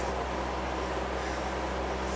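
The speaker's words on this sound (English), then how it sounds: "you can hear the fan in the background" A steady, even whir of a fan running continuously in the background, with no voices or other sounds.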